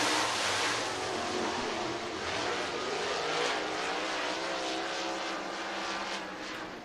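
Race cars roaring around Southern Raceway in Milton, Florida during a heat race, a dense, steady engine drone at a distance with slight rises and falls in intensity.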